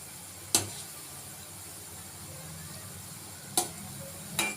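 Chhena jhilli, a fried cheese sweet, cooking slowly in hot oil over a low flame, with a soft steady sizzle and a few sharp utensil clinks against the pan, close and quiet with no talk.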